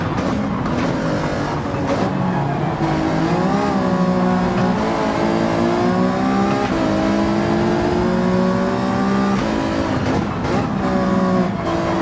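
Race car engines from Gran Turismo 7 drone loudly and continuously, pitch rising and falling through gear changes as the car accelerates and brakes around a wet track.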